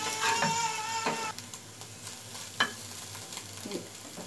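Beaten egg frying with onions in a pan, a soft steady sizzle with several sharp clinks and scrapes of a utensil stirring, no voices.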